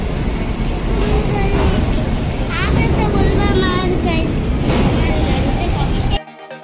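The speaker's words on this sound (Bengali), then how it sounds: "এই তো আমাদের ট্রেন চলে এসেছে" A passenger train pulls into a station, a loud continuous rumble and rail roar with squealing, warbling tones from wheels and brakes, filling the whole moment before cutting off abruptly.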